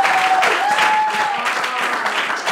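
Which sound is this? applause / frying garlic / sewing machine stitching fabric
applause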